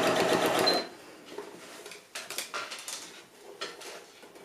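A domestic sewing machine stitches piping close to the seam of a fabric coin purse, running in a loud steady whir for just under a second, then falling to faint, irregular mechanical clicks and taps.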